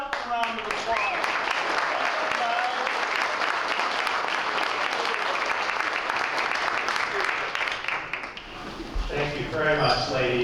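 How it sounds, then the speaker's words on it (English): A gathering applauds Scouts after the national anthem, broad sustained clapping from a sizable crowd for about eight seconds, then thinning as voices and talk take over near the end. "Let's give the Scouts a round of applause"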